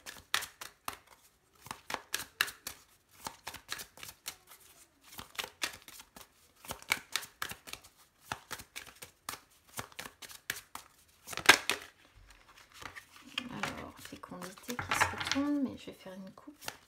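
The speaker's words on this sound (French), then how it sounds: "je vais commencer ce tirage avec mon oracle des miroirs. Je vais d'abord faire une coupe" A deck of oracle cards being cut and shuffled, with a series of crisp riffling bursts and soft slaps in an uneven rhythm close by, followed by a quieter patch where someone speaks.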